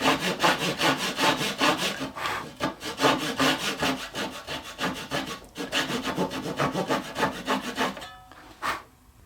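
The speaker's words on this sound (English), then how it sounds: "then we're going to cut roughly down to the 15-degree mark" A hand saw cutting wood down to an angled mark for a doll-sized Adirondack chair, steady rhythmic back-and-forth rasping strokes, loud and close, slowing and stopping near the end.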